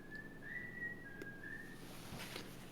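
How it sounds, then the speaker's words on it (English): A person whistles a sustained, wavering tune in the background of a podcast recording, faint and steady for nearly two seconds before trailing off. "Matt is whistling."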